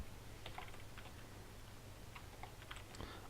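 A name typed on a computer keyboard while setting up Linux Mint in VirtualBox, soft scattered key clicks in short uneven bursts, faint and close.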